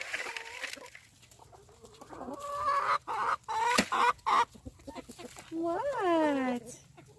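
Backyard poultry, toms and hens, cluck and call in short bursts close by, with a longer rising call near the end, while someone talks softly between the sounds.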